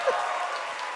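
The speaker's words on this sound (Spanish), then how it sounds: "Un aplauso para mi hermana que vino esta noche" A brief burst of live audience applause at a Spanish-language comedy show, a dense wash of clapping lasting about a second at moderate loudness.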